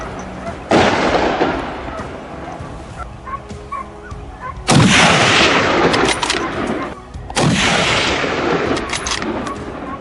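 Rifle shots fired at wild boars ring out three times, each a loud sharp crack with a long rolling echo, spaced a few seconds apart.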